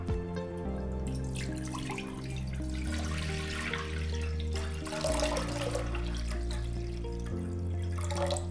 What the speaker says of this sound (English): I'm gonna add some water into this pot.